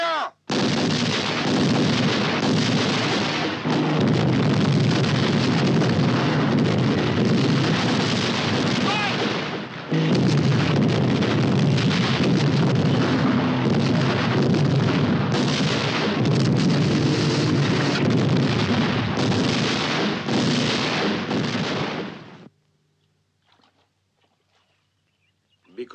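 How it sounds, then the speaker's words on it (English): An artillery battery fires in a war film, a sustained roar of overlapping booms and blasts that runs for over twenty seconds, briefly dips partway through, then cuts off abruptly into near silence. "Battery 1, fire!"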